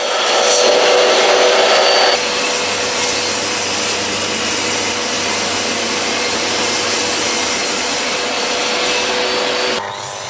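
Old oak floorboards being sawn to rough size with a power saw, a loud steady whine running continuously for about eight seconds after a short louder start, then stopping near the end.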